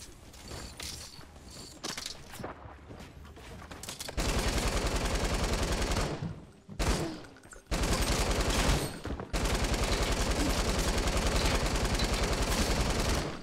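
Rapid gunfire in the Fortnite Battle Royale video game rattles in long, dense automatic bursts, loud and close, separated by short gaps and mixed with clanking mechanical game sounds.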